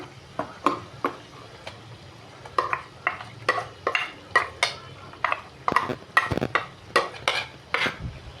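A spoon stirs ground masala frying in a pan for Andhra-style chicken fry, giving a steady series of sharp scraping clacks about once or twice a second over a low sizzle.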